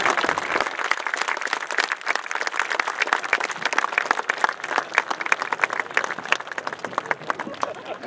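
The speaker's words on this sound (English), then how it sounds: "Please join me, and if you are present, the class of 1971, in a round of applause." A graduation crowd applauds at a 2021 commencement ceremony, a dense ongoing clatter of many hands clapping with crowd murmur, steady and moderately loud throughout.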